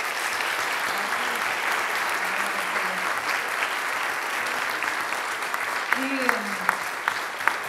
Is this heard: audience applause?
yes